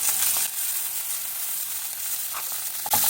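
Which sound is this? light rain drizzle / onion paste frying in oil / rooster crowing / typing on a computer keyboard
onion paste frying in oil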